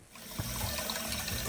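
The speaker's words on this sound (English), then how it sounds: "now I was able to rinse through the entire system inside the motor" Water rinsing steadily through the cooling system of an old, rusty Mitsubishi diesel engine on a sailboat, with dirt flushing out; a continuous close splashing trickle with no talk.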